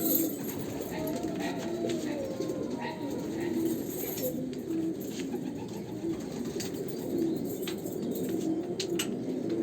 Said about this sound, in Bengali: এখান থেকে আমি পায়রা ছাড়ি।